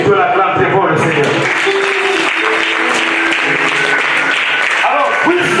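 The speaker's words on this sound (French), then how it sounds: "Si tu l'acclames très fort, le Seigneur." A church congregation at a youth seminar bursts into loud, sustained applause and cheering, filling the room continuously from start to finish.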